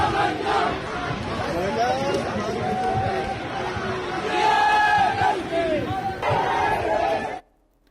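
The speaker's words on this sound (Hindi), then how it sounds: "सुनिए, देखिए वो नारे लग रहे हैं" A protest crowd in Pakistan-occupied Kashmir chants slogans in loud, rhythmic bursts, with a small child leading the group, voices rising and falling over several seconds before cutting off abruptly.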